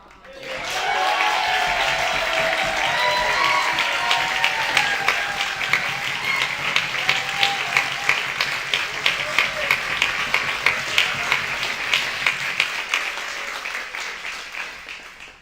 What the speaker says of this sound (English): Put a big round of applause together for Yao Strong.